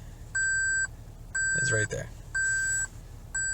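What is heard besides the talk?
Lexus LX 570 warning beeps when shifting to low 4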